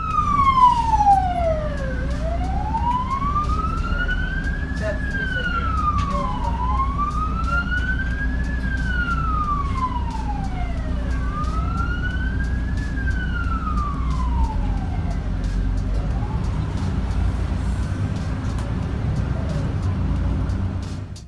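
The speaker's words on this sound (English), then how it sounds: "even though the siren is on" An Australian ambulance siren wails in slow rising and falling sweeps, loud and steady, over a constant rumble of surrounding road traffic with no voices.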